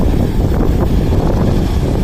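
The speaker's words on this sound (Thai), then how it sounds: "ลมแรงอีกแล้วครับวันนี้" Strong wind buffets the microphone outdoors at an excavation site where a Kobelco SK200 Super excavator is digging, a loud, steady broadband roar with no pauses.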